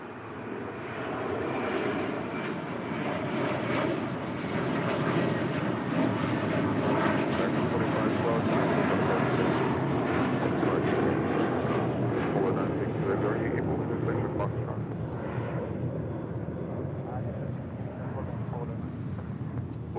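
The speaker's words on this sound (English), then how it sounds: "It's an A321" An American Airlines Airbus A321 bound for Orlando takes off at LAX, its jet engines a broad, steady roar that swells and holds for the whole stretch at middle distance, with faint voices and radio chatter underneath.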